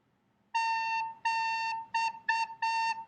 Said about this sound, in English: I would then blow on my recorder,